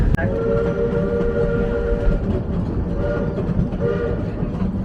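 A narrow gauge train on the Georgetown Loop railroad rumbles steadily close by, with a sustained horn or whistle tone over the running noise and a brief sharp clank at the start.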